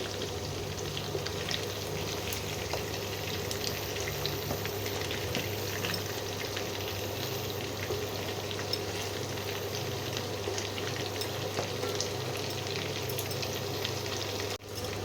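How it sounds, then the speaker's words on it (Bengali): Pieces of lamb fry at medium heat in a mix of ghee and oil, giving a steady, close sizzle and crackle that holds evenly from start to finish with no talk over it. "ওই জন্যে মাংসটাকে হালকা করে একটু ভেজে নিতে হবে।"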